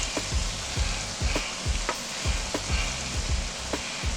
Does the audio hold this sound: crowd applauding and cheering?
no